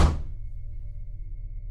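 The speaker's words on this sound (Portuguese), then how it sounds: "De repente, a porta bateu com força, fazendo a casa toda tremer." A door slams shut violently with one heavy, dull thud that dies away into a low lingering rumble and near silence.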